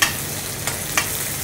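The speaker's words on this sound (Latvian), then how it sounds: "tagad ieliekam sviestu piku, lai tas sviests izkūst. Un tad paralēli pieliekam salviju." Butter and sage fry in a pan with a steady, close sizzle and a couple of soft clicks, with no voices.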